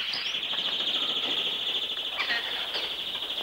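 Birds chirp in quick, high, repeated calls over a steady shrill background, close and continuous throughout.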